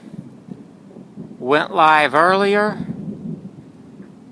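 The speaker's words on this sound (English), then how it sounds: "you can hear that loud thunder in the background" Loud thunder rolls through during a strong thunderstorm in Hoover, Alabama, rising in a rumbling burst midway and fading back, while a person talks underneath it.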